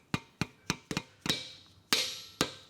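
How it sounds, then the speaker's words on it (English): Sharp taps from the end of a plastic hammer on a main bearing cap while installing the crankshaft in a Ford 5.4L 3V engine, about eight distinct knocks at an uneven pace, some ringing briefly, close and alone. "Use the end of a hammer here"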